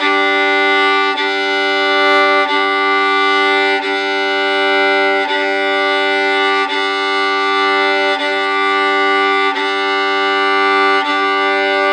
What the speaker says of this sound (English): let's mess around now with the D and the G double stop